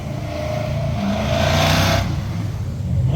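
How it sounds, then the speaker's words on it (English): Cars pass along a busy urban street, a steady traffic rumble that swells as one vehicle goes by mid-way and then eases, moderately close with no talk. "starting to get a little bit more cars showing up"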